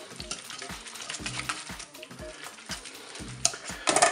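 Pasta with ham and grated gruyère is stirred in a pot, a rhythmic run of scraping, clinking strokes over a light sizzle, growing busier toward the end.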